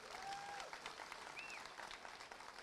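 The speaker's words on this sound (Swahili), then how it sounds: "Tupigie Kalonzo makofi." A crowd at a DCP rally in Magarini applauds Kalonzo Musyoka, a faint, steady patter of clapping with a couple of thin whistles rising above it.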